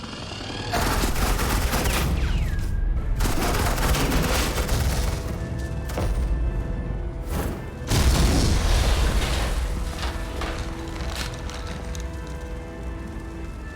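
Sustained suppressing gunfire in the video game Batman: The Enemy Within, loud dense bursts of shots and booms rolling continuously with brief lulls, no talking.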